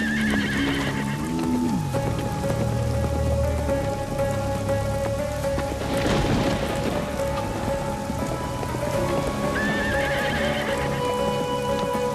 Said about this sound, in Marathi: हा फक्त थोडासा पाऊस आणि थोडंसं वादळ आहे